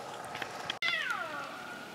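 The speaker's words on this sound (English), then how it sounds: "Watching two wild cats fight each other" Two wild cats fight outdoors in the rain, one letting out a loud, drawn-out yowl that rises and then falls away after a brief pause, over a steady wash of background noise.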